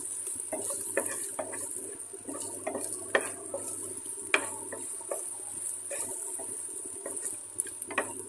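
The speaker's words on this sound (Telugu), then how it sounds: "మసాలా అంతా వేగుతుంది" Masala with chili powder frying in a pan for tomato rice, stirred with a utensil: steady faint sizzle with a string of light scraping and clinking taps, no talking.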